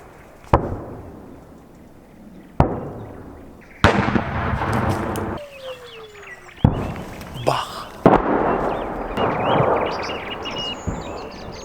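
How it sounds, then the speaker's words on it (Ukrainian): Heavy booms of an artillery barrage near Bakhmut go off repeatedly at irregular intervals, some sharp and near, others rumbling, with a whistling streak between blasts and voices faintly in the background. "Зараз буквально артпідготовка і далі буде бій"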